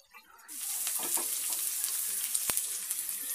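Chopped onions fry in a pan for aval upma (flattened rice upma), a steady close sizzle that bursts in after a brief quiet start and holds, with a few sharp crackles.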